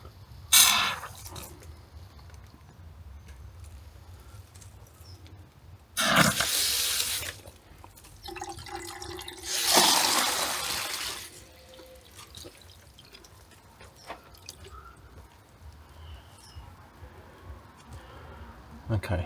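A dripping water tap gives a few soft splashy bursts of running water, spaced apart over low background noise, with quiet stretches between.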